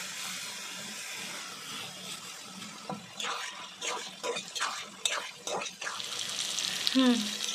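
Water is added to a pot of cooking Gobindobhog rice with spices, heard as a close splashing pour and bubbling stir over a faint background hiss.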